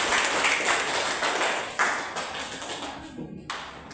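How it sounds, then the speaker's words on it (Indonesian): Applause from a classroom audience after a group presentation, dense steady clapping from many hands that thins out toward the end, with a few louder individual claps near the close. "Mari kita beri tepuk tangan."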